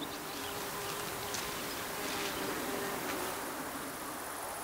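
Small insects buzz inside a hive set within a closed mosquito net, a faint, continuous steady drone with no voices.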